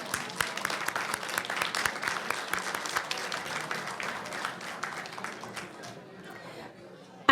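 A room full of people at a board reception applauding, loud and sustained, with a few voices mixed in, before the clapping tapers off near the end.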